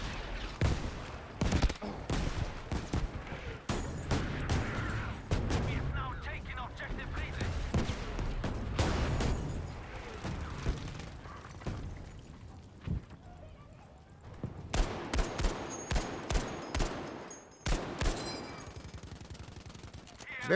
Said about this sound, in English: Oh no, it's a medium artillery barrage.